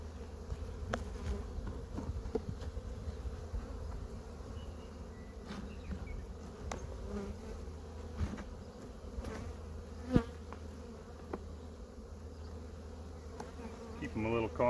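Honeybees buzz steadily in an open hive during an inspection. The droning hum is continuous, with a few soft knocks and scrapes from hive tools and no voices.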